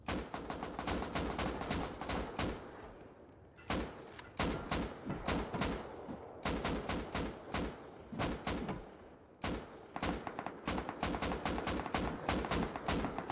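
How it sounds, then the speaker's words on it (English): Rapid bursts of video game gunfire crackle loudly through a raid attempt, with dense automatic volleys broken by short gaps around the four-, six- and ten-second marks. "I'm gonna shoot him."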